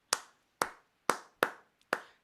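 Five sharp, isolated hand claps in a bullerengue rhythm, evenly spaced about half a second apart with a faint extra tap before the last, dry and moderately close with silence between.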